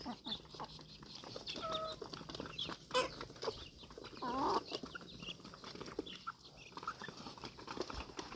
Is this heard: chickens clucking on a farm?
yes